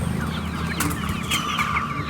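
Chickens, including fancy breeds, cluck and chatter in short repeated calls at a roadside mobile poultry stall selling chicks, close and fairly loud over a constant low background hum.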